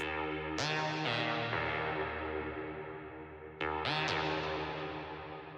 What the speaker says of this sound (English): the last synth sound we have here is this little ambient lead